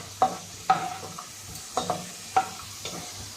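Cashew nuts frying in a pan while being cooked to light golden brown, with a few sharp, spaced scrapes of stirring over a faint, soft sizzle.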